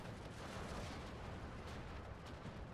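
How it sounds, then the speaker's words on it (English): Airstrike explosions in Steel Division II roll on as a continuous, distant wall of booming rumble, steady and fairly faint with no distinct breaks between blasts. "No, good airstrike."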